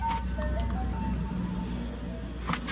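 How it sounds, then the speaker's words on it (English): An ice cream truck's jingle plays from close by over low traffic rumble, steady throughout with a few brief bumps. "Ice cream truck."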